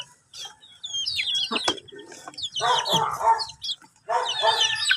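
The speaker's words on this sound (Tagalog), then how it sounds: "Wawa naman itong mga sisiw na to." Chicks and chickens of a native Visayan breed cluck and cheep nearby in a steady, busy chorus, with rooster-like calls and bursts of overlapping clucking, no speech over them.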